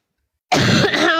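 A single sudden cough bursts out after a moment of silence, loud and close, running on briefly with a rough throat-clearing rasp.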